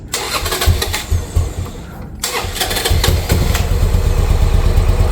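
A Buell Blast motorcycle engine starts up, pauses briefly, then revs loudly and rides off with a steady, close, rumbling drone.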